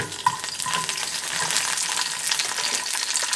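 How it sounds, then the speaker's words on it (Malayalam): Garlic and curry leaves sauté in a pan of oil with a steady, close crackling sizzle that stays even throughout, with no speech. "വെളുത്തുള്ളിയും കുറച്ച് കറി ലീവ്സ് ഇട്ടിട്ട് ഇതൊന്ന് സോട്ട് ചെയ്തെടുക്കട്ടെ."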